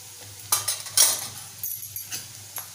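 Onion frying in a pan with turmeric and Malvani masala for a drumstick and potato bhaji, heard as a few quiet clinks and scrapes of a spoon stirring against the pan at close range, with a faint sizzle underneath.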